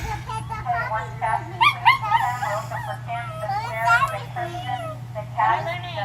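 Puppy at a dog visit at Crooked Creek whimpering and yipping in high, thin bursts, close and fairly steady, mixed with people talking and a low steady hum underneath.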